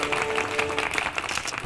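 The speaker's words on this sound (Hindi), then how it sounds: "तालियां" Brief burst of audience applause in a live television courtroom-style show, a dense steady clapping wash lasting under two seconds.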